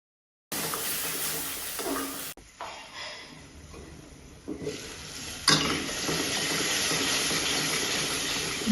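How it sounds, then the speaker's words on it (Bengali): Potatoes and onion sauté in a pan with a loud, broad hiss that shifts abruptly as the food is turned, steady and close throughout after a brief silent start. "আমি এই জন্য একটু পেঁয়াজের সাথে আলুটাকে একটু কষিয়ে নিচ্ছি"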